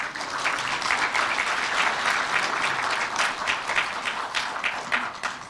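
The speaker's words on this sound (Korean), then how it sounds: "여러분 큰 박수로 맞아주시기 바랍니다." A seminar audience bursts into steady, loud applause to welcome a speaker, many hands clapping continuously for several seconds with a slight fade at the end.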